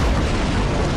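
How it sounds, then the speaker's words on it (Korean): More than ten missiles stacked in one spot detonate at once in GTA 5, giving a single loud, sustained blast that roars for about a second without letting up. "이번에는 이 미사일들을 한자리에 10개 이상 겹치고서 동시에 터뜨려볼게요"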